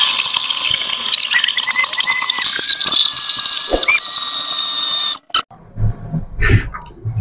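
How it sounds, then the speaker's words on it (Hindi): A blender whirs through ginger and garlic with cooking oil, giving a steady, loud high whine for about five seconds before cutting off, followed by a few clattering knocks. "और इसको अब हम ब्लेंड कर लेते हैं।"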